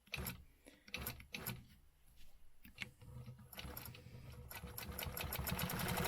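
A sewing machine stitches a stencil quilt block in short stop-start bursts of fast needle chatter, then settles into a longer continuous run that grows louder toward the end, with no talking.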